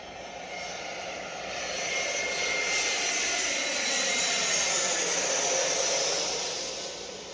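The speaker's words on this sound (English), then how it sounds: "It sounds like an airplane flying overhead." A jet airplane roars overhead, the engine noise swelling as it approaches, peaking, then slowly fading away.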